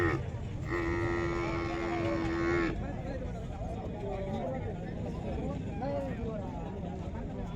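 A buffalo calf about a year old gives one long, loud moo near the start of a busy livestock market, then voices talk over steady crowd noise.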